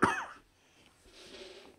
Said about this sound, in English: Oh, this cough is no good.